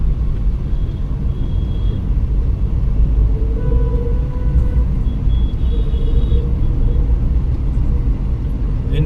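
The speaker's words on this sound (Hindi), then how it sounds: "अभी गाड़ी चला रही" A car driving through monsoon traffic in Delhi between Lajpat Nagar and Dwarka, steady low engine and road rumble with faint horns in the distance and no talk.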